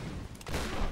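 A quick burst of gunfire in the Tomb Raider video game: a short, dense rattle of shots, fairly loud, with no talk over it.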